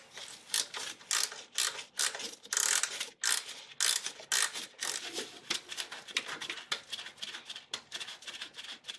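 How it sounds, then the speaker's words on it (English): A ratchet wrench spins a 10 mm power steering belt adjuster counterclockwise on a 1999 Acura RL, rapid close-up clicking in repeated bursts with brief pauses between strokes, no talking. "I'm going to go ahead and spin that to the left or counterclockwise to loosen the belt"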